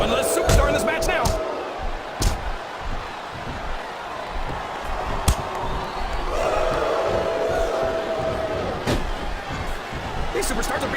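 Video-game wrestling crowd cheering throughout a Royal Rumble match in WWE Smackdown vs Raw 2007, a steady roar with bursts of whoops and thuds under continuous commentary.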